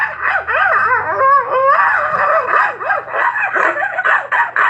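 A human voice imitates a small pinscher dog barking, producing rapid, high-pitched yapping and whiny yips in quick bursts, close and loud.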